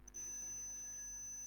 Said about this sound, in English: If it detect a gas, so it will turn the alarm on like this.